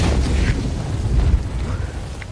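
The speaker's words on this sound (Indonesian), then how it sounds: "Terjadilah ledakan dahsyat dengan 2 kali kekuatan bom" A double landmine explosion in the film Land of Mine, a heavy low boom that rumbles and swells across the short span, with no speech over it.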